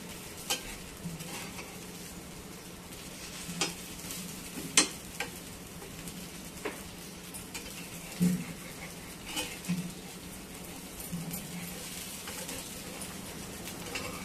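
Moong dal dosa crisps on a hot tawa with a soft, steady sizzle and scattered light taps and scrapes from the spatula, fairly quiet and close.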